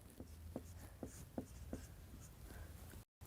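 Chalk or pen writing on a board during a Hindi grammar lesson, five or six short scratchy strokes in a steady rhythm over a low room hum, fairly faint, with no talking.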